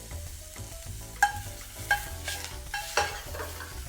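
Onion and a little garlic frying in olive oil as the base of a seafood risotto, a steady close sizzle punctuated by several sharp spoon clacks against the pan.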